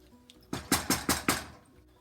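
A spoon stirs a pot of seafood gumbo seasoned with salt, pepper and hot sauce, giving five evenly spaced, fairly loud knocks against the pot in a steady rhythm before the sound fades.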